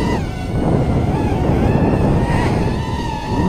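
A 130mm Lantian 3S quadcopter drone with 1306 motors flies under throttle, producing a steady, loud motor whine with rising and falling tones and continuous wind rush on the microphone, no speech.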